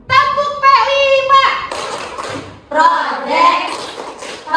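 Children clap along to the Tepuk P5 clap chant in a classroom, bursts of hand claps mixed with their chanting voices and a teacher's speech, fairly loud and close.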